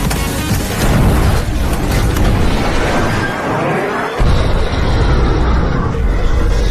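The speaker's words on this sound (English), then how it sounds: "Successfully hit the target with 2 missiles upon hit." Missiles strike a target in heavy explosions, a loud, dense rumbling roar that fills the whole stretch, with a sharp fresh blast partway through renewing the booming wash.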